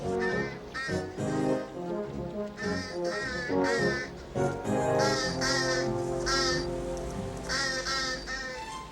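A bird near a hen house gives loud, harsh cawing calls in repeated bursts, close and prominent, with brief pauses between the call groups.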